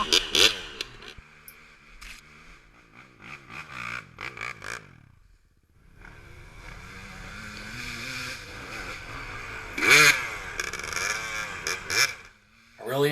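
A dirt bike engine revs loud and close, rising and falling through several throttle bursts with a brief drop-out midway. Speech-like sound may be mixed in.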